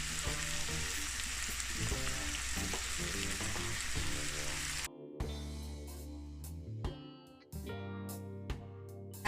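Saltfish fries with black pepper in a pan, a loud steady sizzle close by, broken by stirring scrapes and clatters, then the sizzle drops back quieter with intermittent utensil knocks.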